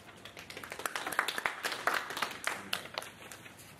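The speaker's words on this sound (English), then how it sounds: "We need all the people to applaud loudly on behalf of the others as well" Audience at a gas industry forum applauding a speaker, a moderate crowd of hands clapping in a lively, slightly uneven patter that swells and then eases off.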